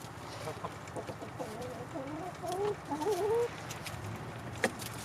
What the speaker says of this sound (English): why don't we watch the chickens